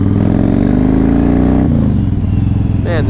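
Yamaha Raider motorcycle with modifications and a hydraulic clutch accelerating hard, a loud, close engine note climbing in pitch, dropping briefly at a gear change, then pulling again.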